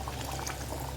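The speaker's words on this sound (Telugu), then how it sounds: "అప్పుడు చింతపండు పులుసు వేసుకుందామండి." Tamarind juice is poured into a simmering goat head curry, giving a brief, close, steady liquid pour that lasts about a second, with no voices.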